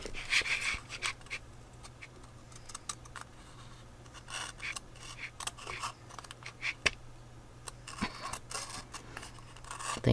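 Scissors snip through the thin cardboard of a saltine crackers box being cut down for a triangular pen and pencil holder, giving a series of close, crisp rasping cuts and scrapes with quiet handling noise in between.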